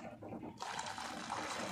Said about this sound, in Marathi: आता ही पाणी डाळीमध्ये घालून घेते.